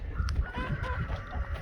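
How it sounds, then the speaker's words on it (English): Chickens cluck and honk close by outdoors in a hay field turned vegetable plot, a few short irregular calls over a low background rumble, with no talk. "I got 2 chickens I gotta wrangle still."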